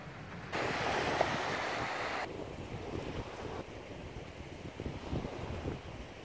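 Sea waves wash onto a beach, a broad steady roar close by, with strong wind buffeting the microphone and louder gusts early on.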